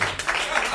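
A brief wash of congregation clapping at a Sunday church service, dense and continuous hand claps lasting under a second, moderately loud.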